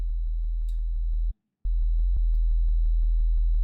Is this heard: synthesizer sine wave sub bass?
yes